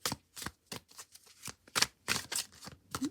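Tarot cards being shuffled by hand, a string of quick crisp riffling bursts in an uneven rhythm, close and fairly quiet with no talk.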